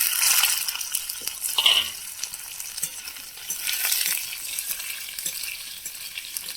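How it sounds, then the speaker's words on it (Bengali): Potatoes and tomatoes hit hot oil seasoned with five-spice, setting off a loud, steady sizzle with stirring scrapes that swell and ease over several seconds, close up. "আলুগুলো দিয়ে দিচ্ছি, তেল গরম হয়ে গেছে। টমেটোগুলো দিয়ে দিচ্ছি।"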